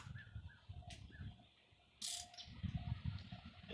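A hand ratchet tightens spark plugs on a 2004 Honda Civic 1.7L LX engine, giving a few quick, faint clicking bursts close by with short pauses between them.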